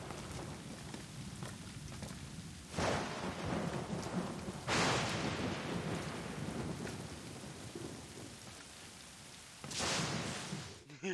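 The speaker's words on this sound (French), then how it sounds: "Il y avait pas un orage il y a même pas 2 secondes." A thunderstorm in the video game Assassin's Creed Rogue brings steady, dense rain with several loud rumbling thunder cracks, one near the start, one in the middle and one near the end.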